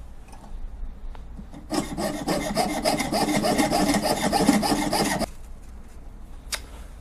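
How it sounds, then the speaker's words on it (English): A waxed hand saw cuts through a piece of wood, giving about three and a half seconds of steady, close rasping strokes with quiet handling noises before and after. "Wax my saw, and let's get going."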